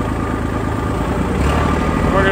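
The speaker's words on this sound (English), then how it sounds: "Getting on my little tractor here." A small ranch tractor engine runs at a steady idle nearby, a continuous loud low rumble with a faint voice underneath.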